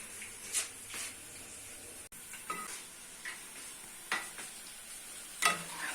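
Pakoras made from gram-flour batter frying crisp in hot oil: a steady soft sizzle with occasional stirring clicks and scrapes of a utensil against the pan, close and fairly quiet.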